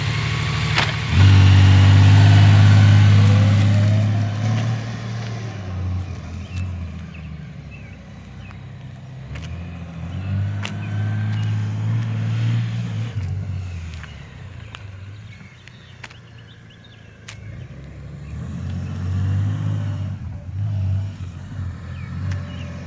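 A 2018-or-later Honda Gold Wing motorcycle out on a ride, its engine a steady, loud, close drone that rises and falls with throttle changes under wind noise throughout.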